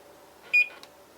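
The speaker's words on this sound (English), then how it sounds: "Now I'm going to take my cake batter to my microwave. I'm going to set the timer for" A microwave oven's keypad gives one short, clear electronic beep while its timer is set in a quiet kitchen, followed by a faint click.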